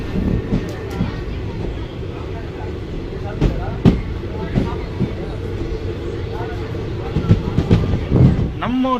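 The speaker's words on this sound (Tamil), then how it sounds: "இப்போது நம்ம ட்ரெயின் திண்டுக்கல் ஜங்ஷன் டிபார்ட் போகுதுங்க." Guruvayur Express pulling out of Dindigul Junction, with a steady rumble and clanks of rail wagons heard from inside a coach, under someone speaking throughout.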